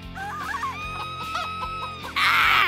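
A cartoon chicken clucks and squawks in short rising and falling bursts over a steady background tone, ending in a sudden loud noisy burst.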